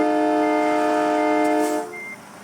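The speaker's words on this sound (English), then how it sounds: "But it turns out there's a secondary horn on this truck," A secondary air horn on a truck in the American Truck Simulator game sounds one sustained, chord-like blast, loud and steady for nearly two seconds before cutting off, with nothing else heard.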